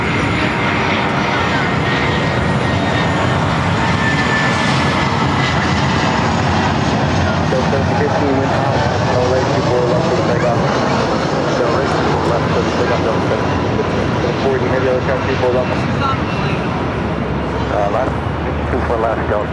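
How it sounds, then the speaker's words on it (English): A Delta Air Lines Airbus A320 arriving at Los Angeles International Airport, a loud, steady roar of jet engines holding for the whole stretch with speech mixed in over it. "Next arrival is Delta Airlines flight 439 coming up from Dallas, Fort Worth,"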